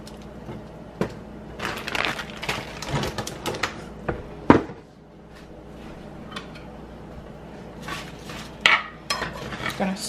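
Food being stirred in a pot during meal prep in a home kitchen, with irregular scraping, clinking and knocking of a utensil against the pot, a few sharper clanks, and quieter stretches between bursts.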